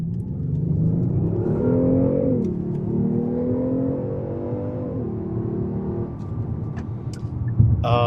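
A Kia K900 in sport mode with enhanced engine sound accelerates hard, its all-wheel-drive engine note rising steadily through gear changes in a continuous smooth roar, with a brief click near the end.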